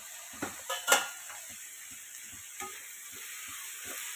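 Onions, tomatoes and masala fry in a pressure cooker for chicken biriyani, with a soft steady sizzle and a few sharp spoon scrapes and clinks as the mix is stirred.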